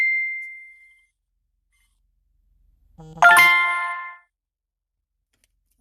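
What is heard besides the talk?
phone notification dings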